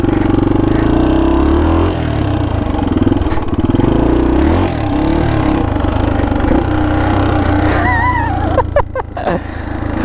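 A 40-year-old Honda dual sport dirt bike runs with a steady, close engine drone and shifting revs, with a brief break in the sound near the end.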